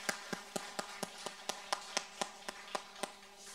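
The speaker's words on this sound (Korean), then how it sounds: "환영의 박수 하겠습니다." A church congregation at a Sunday worship service gives welcoming applause, clapping together in a steady, even rhythm of sharp claps, about three to four per second, moderately distant.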